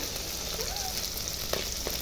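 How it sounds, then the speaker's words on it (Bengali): Steady, bright sizzling of a rohu fish head and tail frying in hot oil, continuous and close, with a couple of soft clinks near the end. "মাথা আর লেজাটা ভেজে নিচ্ছি"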